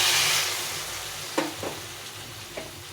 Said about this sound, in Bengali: এখন এই যে জলটা ফুটিয়ে রেখেছিলাম এই জলটা দিয়ে দিই